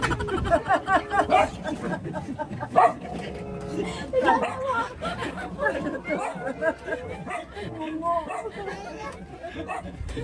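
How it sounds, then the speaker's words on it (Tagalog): Dogs barking and yipping in short bursts while several people talk and chatter over them, the barks rising now and then above the voices. "Yung aso kasi ang ingay."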